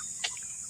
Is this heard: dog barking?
no